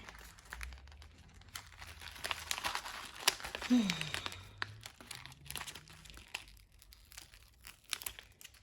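A sticker peels off its backing while planting sweet peas in an English cottage garden, giving crinkly tearing sounds as stubborn glue resists. Someone talks over it nearby.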